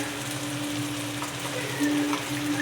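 Masala with turmeric and home-ground chili powder being sautéed in a pan for prawn karuvadu thokku, a steady close sizzle with soft stirring scrapes, no talking.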